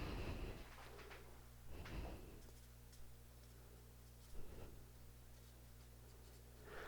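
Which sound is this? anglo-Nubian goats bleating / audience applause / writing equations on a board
writing equations on a board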